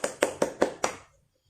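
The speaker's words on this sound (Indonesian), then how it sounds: "Oke, tepuk tangan dulu dong." Children in a fifth-grade class clap their hands in five even, sharp beats about a fifth of a second apart, close and clear, then stop.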